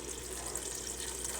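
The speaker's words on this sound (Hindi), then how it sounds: "अब इसमें पानी ऐड करेंगे हम" Water is poured into a pot of mutton and bottle gourd curry, a steady soft splashing trickle that runs evenly throughout with no voices over it.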